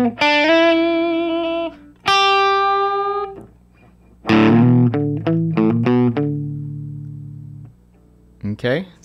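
A distorted electric guitar plays a bluesy riff, with sustained bent notes, a short run of picked notes and ringing held tones, close and fairly loud.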